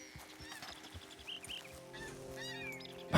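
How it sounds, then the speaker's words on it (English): Wild turkeys in Red Dead Redemption 2 gobble and honk in scattered, overlapping calls at moderate distance over a low ambient game backdrop, quiet overall with a sudden loud burst at the very end. "My God, there's loads of turkeys around here."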